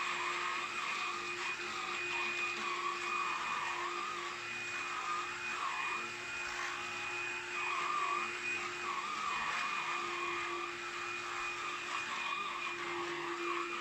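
A Black and Decker Multipro 2-in-1 cordless vacuum cleaner (CUA525BH) runs with a steady, continuous motor whine and airy suction hiss, close and unbroken throughout, with no one talking.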